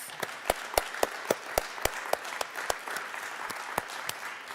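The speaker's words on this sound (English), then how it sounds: "Let's give those students a round of applause." Sparse, scattered clapping from a small audience at a school district address, individual claps standing out in an uneven rhythm.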